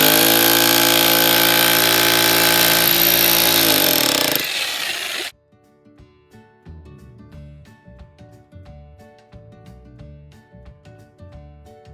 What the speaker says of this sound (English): I'll chisel between each one of these holes.